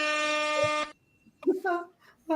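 A person voices a horn-like blast imitating an air horn, a loud sustained buzzing tone that cuts off, followed by short bursts of vocal sound and talk.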